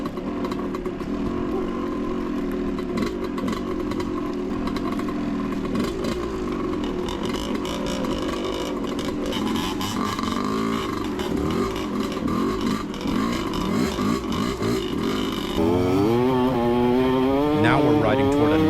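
Dirt bike engines droning and revving while riding across a giant rock plateau in Sri Lanka, a continuous close motor buzz with shifting pitch, rising into sharp revs near the end.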